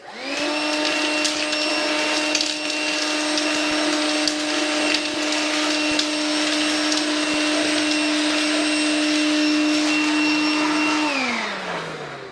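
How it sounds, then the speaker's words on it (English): A Makita XLC02ZB 18V cordless vacuum cleaner whirs steadily at close range with a high-pitched motor whine, then winds down and shuts off near the end. "Now this is just the vacuum."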